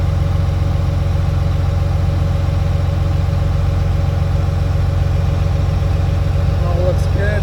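A John Deere 850J ex-military dozer engine idles steadily, a loud, continuous low rumble with an even throbbing pulse that holds unchanged throughout, close up and without talk.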